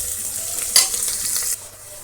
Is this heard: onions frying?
yes